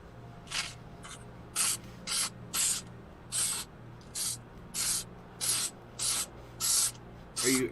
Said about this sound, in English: some spray mount instead of having to like put all glue all over